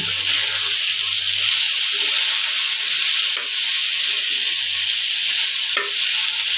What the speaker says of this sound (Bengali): এখন আমি কিছু ভাজা জিরার গুঁড়ো দিয়ে দেব, দিয়ে ভালো করে নাড়াচাড়া করে নামিয়ে নেব।